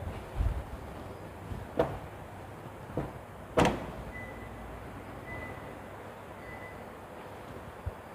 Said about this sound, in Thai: เดี๋ยวขออนุญาตปิดนะครับฝาท้าย